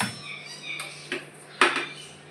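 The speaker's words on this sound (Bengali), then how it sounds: "এইবারে এইখানে আমি দেবো গোটা গরম মশলা দিয়ে দিলাম" Whole garam masala spices drop into ghee in a metal pan, giving a few sharp clinks and rattles against the pan over a quiet background, close by.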